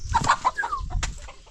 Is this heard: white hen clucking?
yes